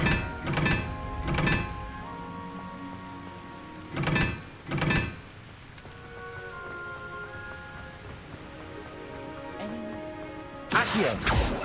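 Confringo fire spells cast in Hogwarts Legacy, heard as sharp, loud blasts in pairs with a longer gap between them. A sustained magical hum runs underneath, and a final burst arrives near the end.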